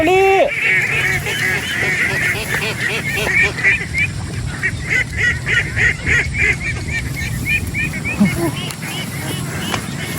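Domestic ducks on a farm flock calling and honking continuously, several birds overlapping in a busy, fairly close chorus with outdoor background and occasional voices.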